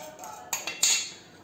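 Sago pearls poured into a metal utensil, three quick bright clinks followed by a brief rattling scatter, close and clear with no talking.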